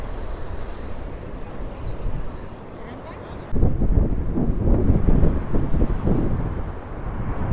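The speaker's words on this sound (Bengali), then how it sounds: "আর এই হচ্ছে ফ্রেজারগঞ্জ সি বিচ। আর এখন জোয়ার চলছে।" Wind buffets the microphone on Fraserganj sea beach at high tide, a loud rushing roar that grows stronger partway through, with surf faintly beneath and a voice speaking over it.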